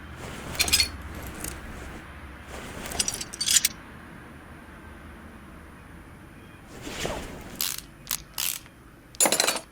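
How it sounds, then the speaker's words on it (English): Car parts come off the brake and suspension assembly in Car Mechanic Simulator 2018: clustered metallic ratcheting and jangling clicks in short bursts over a low hum, with quieter gaps between groups. "I do have to take the entire brake system off in order to get to the suspension"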